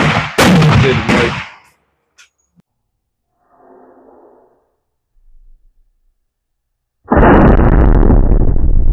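Hunting rifle fired during load development, two sharp, very loud close blasts, one at the start and another several seconds later, separated by near silence with faint rustling.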